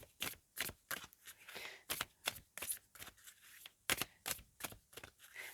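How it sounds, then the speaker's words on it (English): Rapid, crisp riffling of a tarot deck in repeated bursts, close and fairly quiet, with short pauses between shuffles. "I shuffle too well when I concentrate on the cards."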